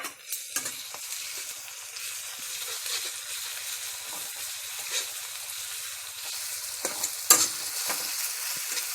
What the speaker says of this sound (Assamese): এতিয়া পিঁয়াজ দি দিলে তেলত। গৰম হোৱাৰ পাছত পিঁয়াজখিনি দি লৈছে আৰু নহৰু দি দিলে।